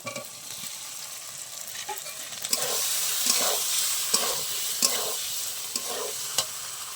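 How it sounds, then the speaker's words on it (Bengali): Spice masala frying in a pan with kasuri methi and fried potatoes, a continuous loud sizzle that swells midway, punctuated by regular scraping stirs of the spoon, no talk. "ভালো করে ভেজে নেবো মশলাটা। এবার দিয়ে দেবো আমি কসুরি মেথি, ভেজে রাখা আলু দিয়ে দেবো।"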